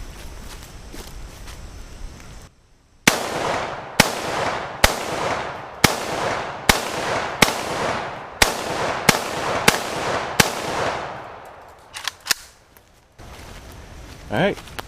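A wood-stocked Romanian Cugir WASR RH-10 AK-47 rifle fires hollow point rounds from an Inner Ordnance magazine: about ten loud, sharp reports at an uneven pace, each trailing off in a short echo, followed by a few faint clicks.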